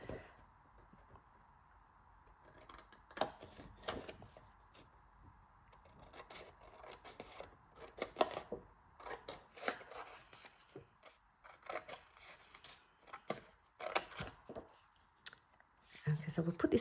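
Scissors snipping through the paper panels of a small pocket folder cover, a run of crisp, close cuts and rustling paper coming in irregular bursts over a steady background hum.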